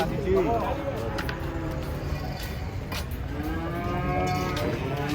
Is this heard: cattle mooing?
yes